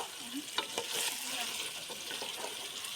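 Chicken pieces being stirred and fried in spiced masala for chicken biryani, quiet sizzling under several close scraping strokes of a spoon against the pot.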